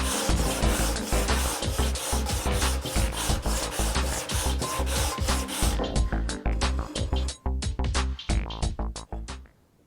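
Brazilian rosewood guitar fingerboard being sanded to a radius, a loud, close, rhythmic rasping of repeated back-and-forth strokes that grow sparser and more uneven toward the end.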